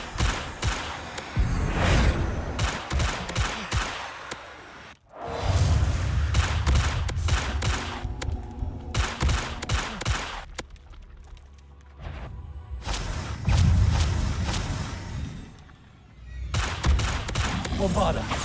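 Bombarda explosion spells going off in Hogwarts Legacy gameplay: repeated booming blasts and bursts of impact noise in uneven clusters, loud and close, separated by brief quieter gaps, with game sounds layered over the action.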